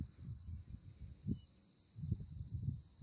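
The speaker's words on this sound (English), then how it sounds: "y'all can actually hear the motherfucking crickets" Crickets chirp at night out in the open about three miles west of New Cuyama, California, a faint, steady high trill running continuously beneath soft, low rustling bumps and handling noise.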